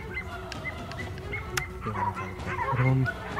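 Several hunting dogs bark and yip in short bursts outdoors during a montería hunt, some whining between barks, at moderate distance.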